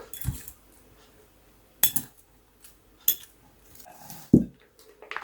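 Ingredients for a baked meat dish are stirred together with onion in a bowl, giving a few scattered clinks and scrapes of a utensil against the dish with quiet gaps between them.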